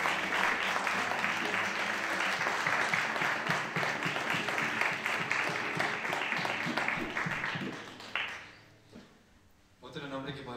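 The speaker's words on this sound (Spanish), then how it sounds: "Más fuerte ese aplauso a María" Dense applause from a church congregation fills most of the stretch, loud and continuous with some murmuring voices in it, then drops away near the end as a voice briefly starts.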